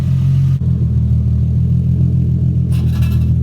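A Nissan 350Z engine idles with a deep, steady low rumble as the clutch is let out, the sound close and continuous throughout, with a brief dip early on and a short burst of higher-pitched noise near the end.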